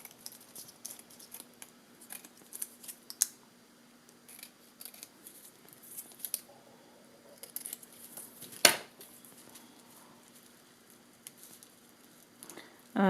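Scissors trim the backing sheet off a gem-art craft project. The snips are quiet and scattered, with soft papery crinkles and one sharper cut near the end, in a quiet room.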